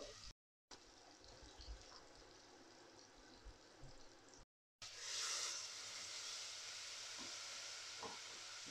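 Water is poured into a pot of onions frying in cooking oil, setting off a hissing sizzle that swells and then holds steady, while quieter kitchen hiss precedes it.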